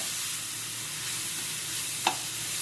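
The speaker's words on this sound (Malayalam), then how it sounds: "ആ നേരത്തെ ക്രഷ് ചെയ്ത് വെച്ചിട്ടുള്ളതും കൂടി ഇതിലേക്ക് ചേർത്തൊന്ന് മിക്സ് ചെയ്ത് കൊടുക്കാം" Crushed spices frying in a hot pan for Kerala-style rasam, a dense steady sizzle with one short stirring scrape near the end.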